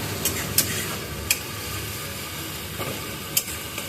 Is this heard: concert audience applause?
no